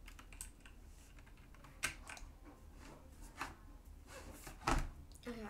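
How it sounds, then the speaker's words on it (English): A computer keyboard is tapped in irregular bursts of soft, close clicks during a Piggy game, with a few sharper louder keystrokes standing out against faint background noise. "Okay, that was just my keyboard."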